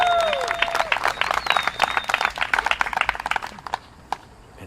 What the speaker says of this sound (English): Let's give a round of applause for Holland Hanley.